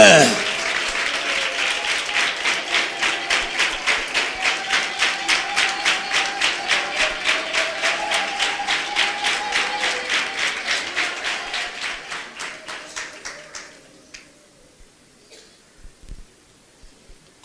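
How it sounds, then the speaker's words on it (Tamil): A congregation at a Tamil Christian church service clapping hands in steady unison, loud rhythmic claps that keep time before thinning out and fading near the end. "கைதட்டி ஆண்டவரை மகிமைப்படுத்துங்க."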